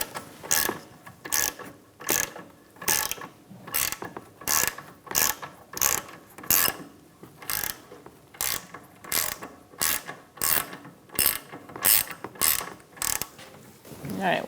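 Repeated ratcheting clicks as a bolt is worked into the rear nut of a lower control arm on a 2012-2018 Ford Focus, a steady series of short bursts about every half second, close and clear with no talk.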